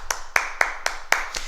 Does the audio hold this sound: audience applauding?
yes